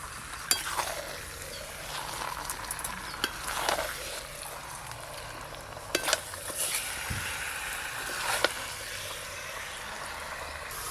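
Chicken and fried green jackfruit sizzle in spiced oil in a pan, a steady soft frying hiss punctuated by clinks and scrapes of a utensil stirring against the pot.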